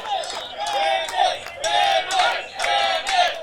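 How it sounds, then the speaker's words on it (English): Wrestling crowd chanting for the wrestler Bandit, a rhythmic call rising and falling in repeated surges, each one loud and roaring, voices massed together. "the crowd calling for him"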